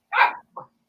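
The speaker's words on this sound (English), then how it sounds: "My dogs react to your coughing." Dogs give two quick barks, a louder one followed by a shorter, softer one, close by in an otherwise quiet room.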